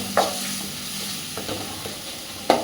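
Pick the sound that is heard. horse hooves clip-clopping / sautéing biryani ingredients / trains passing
sautéing biryani ingredients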